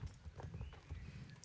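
A horse ridden in the Star Stable video game clip-clops in a brisk, even rhythm of hoofbeats, soft and fairly distant, with no talking.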